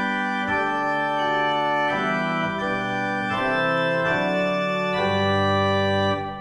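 A pipe organ principal chorus plays with a two-rank mixture stop added, giving bright, dense sustained chords. The chords shift every second or so in a continuous, even, loud wash of tone, with no voices.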